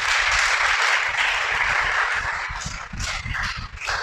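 A church congregation bursts into loud, dense applause that holds steady and then thins slightly toward the end.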